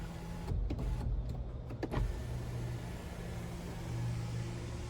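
The front panel of a GMC Acadia Denali's dual skyscape sunroof, on a 2021 model, tilts and slides on its electric motor, a low whirring drone with a few clicks and thumps early on, then a steady hum.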